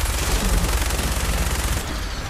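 Automatic gunfire in the game Fallout 4, a loud rapid burst of shots in close succession that stops abruptly near the end.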